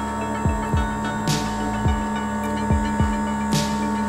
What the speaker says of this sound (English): if I turn the smoke machine on, makes a little bit of noise, it's not too bad